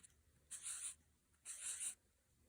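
A pen writes down the answer to a multiplication problem, with two short scratchy strokes close by, separated by a brief pause, and quiet otherwise.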